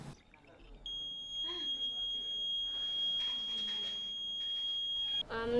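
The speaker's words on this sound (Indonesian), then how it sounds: "alarm pendeteksi banjir sederhana ini berbunyi" A simple homemade flood detector alarm: a continuous high-pitched electronic tone sounds steadily for several seconds, loud and close, cutting off abruptly near the end; faint voices underneath.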